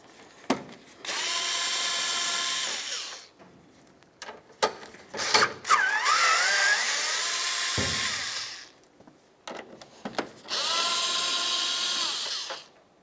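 A power tool runs in three loud, sustained bursts, close and alone, with brief clicks and handling noises between, as it removes the grille mounting bolts on a 1999-2003 Toyota Solara.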